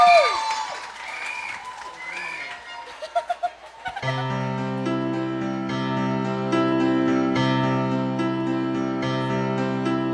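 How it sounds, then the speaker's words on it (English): Audience at a school singing competition applauds briefly, with some voices and a shout, before a singer begins; the clapping fades and a sustained tonal backing track with held piano-like chords takes over. "A big round of applause, please."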